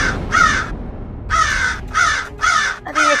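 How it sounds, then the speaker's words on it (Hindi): A crow caws in short harsh bursts, one call and then four more in quick succession, clear and fairly close with no talk over them. "अरे ये कौवा कहाँ बोल रहा है?"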